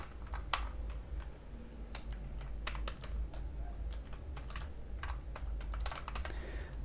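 Steady typing on a computer keyboard while writing VBA macro code in Excel, with rapid uneven key clicks running throughout over a low background hum.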